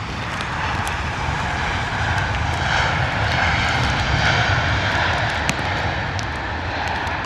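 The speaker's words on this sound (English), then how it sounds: "Looking good, second time round for the British Airways 320 from Bologna, which performed a go around a while ago." A British Airways Airbus A320 from Bologna lands at London Heathrow in wet, windy weather after a go-around, its engines a broad, steady roar heard from a distance with a slight swell midway.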